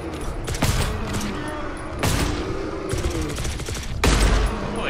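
Gunshots, including sniper fire, in the co-op shooter GTFO: several loud, close bursts of gunfire roughly every second or two, each sharp crack trailing into rattling echoes.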